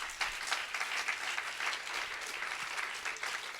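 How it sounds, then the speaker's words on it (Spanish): Applause from a church congregation during an evangelical Spanish-language service, a steady, even wash of many hands clapping at moderate distance, fairly quiet and continuous with no voices over it. "Si gustan darle una ofrenda de palmas al Señor"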